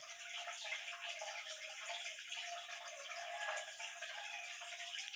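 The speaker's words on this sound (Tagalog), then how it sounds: "Napuno na pong tubig guys." Water running into a container, a faint, steady trickling splash with light rattling, continuous for a few seconds with no talk.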